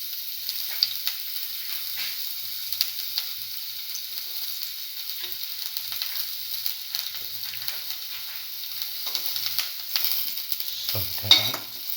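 Shallots sautéing in a small amount of oil in a pan give a steady, close hiss and crackle that runs unbroken throughout, with occasional faint clinks of stirring.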